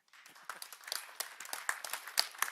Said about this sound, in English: So please give yourselves a round of applause for being here.